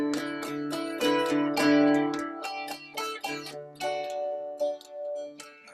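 Ringing harmonics are plucked on a stringed instrument at the 3-2 position above the bass during a tune lesson, a run of bright, bell-like notes struck one after another and left to decay, close and fairly quiet.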